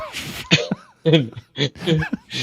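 A man coughs several harsh, explosive coughs in quick bursts, close to the mic, with short gaps between fits.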